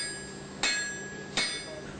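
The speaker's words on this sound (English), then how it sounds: "it's taken from the heat and beaten using a hammer." A hammer strikes hot steel being forged into a knife, two sharp ringing metallic blows about a second apart, close and clear over a low background hum.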